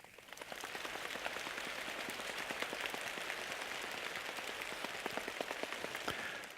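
A class of children pats their thighs together to imitate rain, producing a steady, dense patter of soft slaps that holds evenly throughout.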